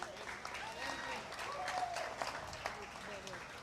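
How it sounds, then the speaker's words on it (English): A grandstand crowd at a dirt-track late model raceway gives a fairly distant round of applause, a steady wash of clapping with a few sharper claps, while a voice talks over it. "let's give a round of applause for Jim Quinn"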